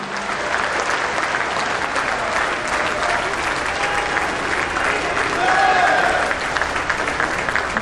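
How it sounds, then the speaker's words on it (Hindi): Sustained applause from a large audience greeting Prime Minister Modi at the Vibrant Gujarat Global summit's 20-year celebration, a loud continuous wash of clapping across the hall with no speech over it. "प्रधानमंत्री श्री नरेंद्र मोदी जी को आइए उनके प्रेरणादायी संबोधन के लिए तालियों के साथ विनम्र निवेदन करते हैं।"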